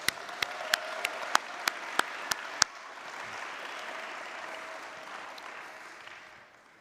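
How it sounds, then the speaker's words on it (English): Audience at a Cornerstone Class of 2022 graduation ceremony applauds the speech givers, a broad wash of steady clapping that fades out near the end, with several sharp louder claps at the start. "Can we give one more round of applause for our speech givers?"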